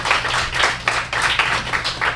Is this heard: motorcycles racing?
no